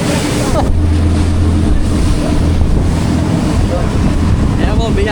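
Strong wind roars across the microphone while heavy waves churn and crash nearby, a loud, unbroken storm at sea off El Nido, Palawan, with intermittent rain.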